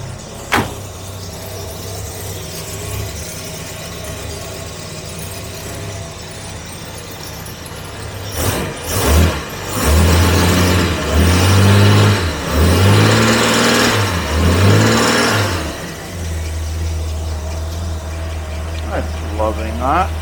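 Series 1 Jaguar E-type engine idling after a cold start and wanting choke, steady and near, with a burst of revving in the middle before it settles back to a rough idle.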